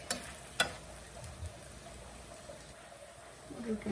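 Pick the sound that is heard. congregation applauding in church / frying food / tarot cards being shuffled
frying food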